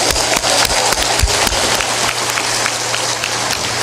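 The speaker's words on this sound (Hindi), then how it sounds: "ताली बजा दो जोरदार" Loud, dense applause from an audience at a spiritual discourse gathering, sustained clapping with sharp individual claps throughout, filling the whole clip without a break.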